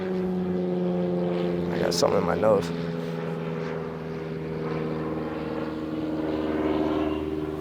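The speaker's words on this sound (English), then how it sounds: "these planes" Propeller planes flying overhead, a steady droning engine hum with layered tones that swells and fades, while a person talks close by.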